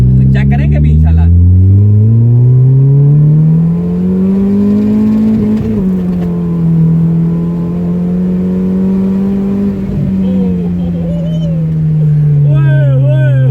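A turbocharged car's engine is loud and close throughout, its drone rising and falling steadily as it is driven on a rainy day, with the pitch climbing toward the middle and easing back later.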